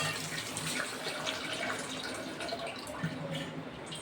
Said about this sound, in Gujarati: તો હવે આપણે બહાર કાઢી લઈશું અને ચોખ્ખા પાણી આપણે થોડુંક ધોઈ નાખીશું